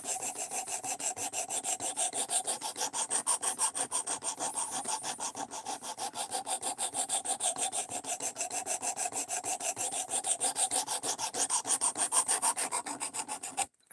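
Kaiser Critical Mini knife with a 3V steel blade being reprofiled on a sharpener, a long run of fast, even rasping strokes, close and steady for about fourteen seconds, stopping abruptly at the end; no talking.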